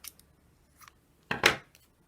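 Scissors trim paper for a craft page, with a few light snips followed by one louder, longer cut near the end in an otherwise quiet room.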